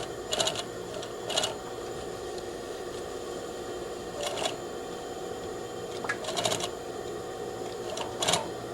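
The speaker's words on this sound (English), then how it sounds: "Let's clear the sewing machine underneath." A sewing machine stitching a waistband to a skirt runs in short separate bursts with pauses between them, each burst a quick mechanical rattle heard close over a faint steady background hum.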